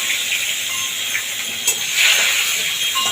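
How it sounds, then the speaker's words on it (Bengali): Nigella seeds, dried red chillies and a bay leaf hit a small amount of hot oil, giving a loud, steady hissing sizzle that swells briefly midway and continues without pause. "এবার ওই তেলেই সামান্য তেলই আছে দেখুন কালো জিরে শুকনো লঙ্কা আর তেজপাতা ফোড়ন দেবো"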